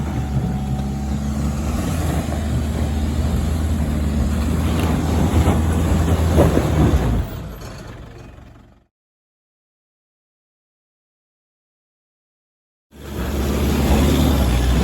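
An off-road 4WD climbs a steep, rough, slippery track on Basalt Knob with a loud, constant engine drone and wind rumble. The engine cuts to total silence for about four seconds, then the droning resumes at full level.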